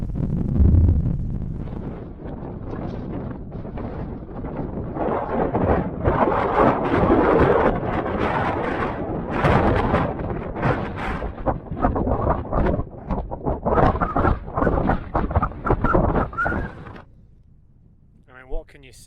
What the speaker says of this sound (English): You can see the wind sweeping across the surface of the lake.